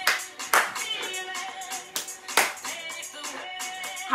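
Rhythmic hand claps from a home dance fitness class ring out in a steady beat of several sharp, close claps over upbeat music.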